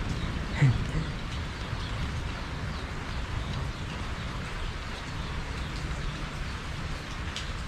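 Steady rain from a thunderstorm pattering on a surface, a broad continuous hiss with a brief knock early on and no voices.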